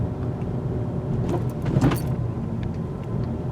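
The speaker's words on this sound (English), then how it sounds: "You're going to hear some thumping in the back from my tool chest." Inside a 2022 Honda Civic Hatchback taking a speed hump, a short cluster of thumps and rattles from a tool chest in the back rises over the steady interior road noise.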